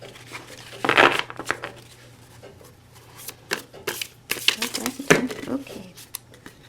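A tarot deck is shuffled by hand in short papery riffles and flicks, close to the microphone and uneven in rhythm, with a person talking between bursts.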